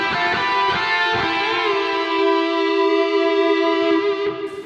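Guitar melody with its harmony a third apart plays together, two lines of plucked notes that ring and sustain, close, steady and clean, with no voices.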